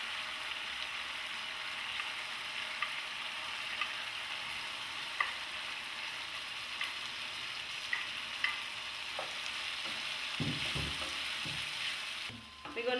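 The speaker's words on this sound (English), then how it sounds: "We're gonna fry this tofu" Hard tofu fries in a pan with tomato and a little water, producing a constant close sizzle with occasional scraping and stirring knocks near the end.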